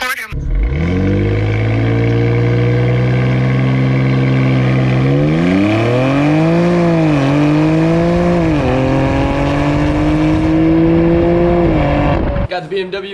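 A BMW X3 M Competition SUV launches hard from a standstill, its engine roaring loud and close as it climbs through the revs, dipping briefly at each upshift before pulling again, then cutting off at the end.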